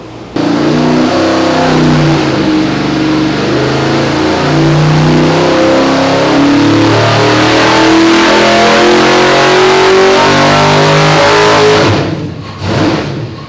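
A nitrous 632 big block engine on a dyno roars through one long, loud, sustained rev at full throttle for about twelve seconds, then cuts off abruptly with a brief dying burble.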